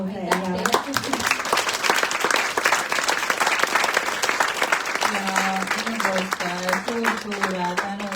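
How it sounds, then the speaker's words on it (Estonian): An audience at a book presentation in Tallinn claps in sustained applause, with voices speaking or singing over the clapping at the start and again toward the end. "suur tänu ja aplaus Maarja-Liisale"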